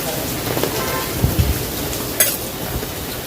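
Steady, heavy rain hisses close and loud, with scattered splashes and a few sharp knocks, and no talking.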